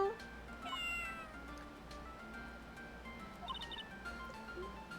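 A cartoon cat named Shoo meows in the video game Phoenix Wright: Ace Attorney Justice For All, giving a couple of short, bright meows over a steady game music backdrop.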